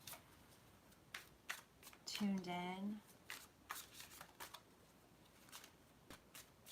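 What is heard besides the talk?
shuffling tarot cards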